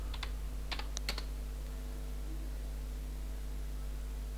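A few quick bursts of keyboard typing at the start, entered into a search box, then near silence over a steady low mains hum.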